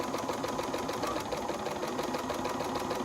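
A sewing machine runs steadily while stitching down one side of fabric patchwork pieces, a continuous close, even mechanical whir with rapid needle rhythm and no talking.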